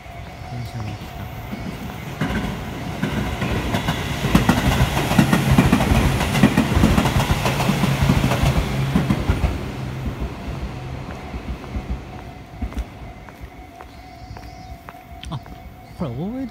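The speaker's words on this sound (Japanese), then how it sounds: "電車が来た。" A train rolls past near an old resort area at Kinugawa, its broad rumble and clatter swelling over several seconds and then fading, with people talking nearby.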